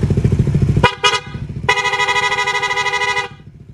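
A Raider FI motorcycle horn honks two short blasts, then one long sustained blare over an idling engine rumble, loud and close.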